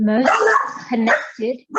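Dogs bark in short bursts beneath a calm voice leading a lunar yoga session, the yaps close and fairly loud and cutting across the speech.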